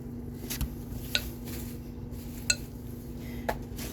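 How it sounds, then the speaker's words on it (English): Cake decorating ingredients stirred in a bowl, with light clinks of a utensil against the dish standing out a few times over a soft, steady scraping. "So I'm going to mix it, mix it, mix it, mix."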